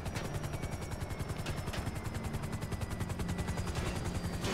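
Rapid automatic gunfire in the video game GTA 5, a steady unbroken rattle of shots at moderate loudness, running for several seconds without talk.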